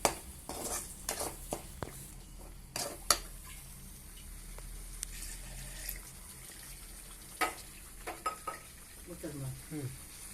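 A spoon stirs and scrapes through elephant foot yam masala curry in a pan as water is added, with soft sizzling and scattered sharp clinks and taps, close and fairly quiet.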